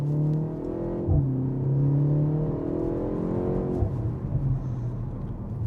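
BMW F70 M135 pulls hard out of a roundabout, its engine revving up in two rising sweeps separated by a quick gear change, the note climbing steadily and fairly loud inside the cabin.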